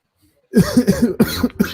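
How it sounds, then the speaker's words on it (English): A man coughs repeatedly in a rough, close burst of several hacking coughs after a brief silence. "See, you got me coughing, man."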